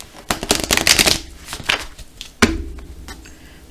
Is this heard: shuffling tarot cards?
yes